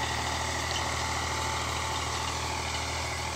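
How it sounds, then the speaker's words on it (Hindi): An Eicher 485 HD tractor engine runs at a steady idle while hitched to a cultivator, giving a continuous, close, even rumble with no change in pace and no voices. "आईसर 485 की टीलर पे बहुत बढ़िया परफॉर्मेंस देता है ट्रैक्टर टीलर पे।"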